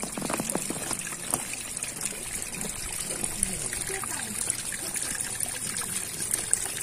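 Small clear mountain streams in Zakarpattia, near Lake Ivor, babble and trickle steadily, a close, continuous burble of running water with speech over it.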